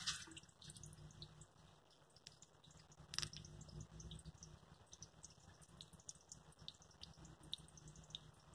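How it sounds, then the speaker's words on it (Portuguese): Water from a spring drips inside a hand-dug well, faint scattered drops and small splashes with one sharper splash, quiet and irregular against low background noise. "O barulhinho da água da mina aqui de Minas"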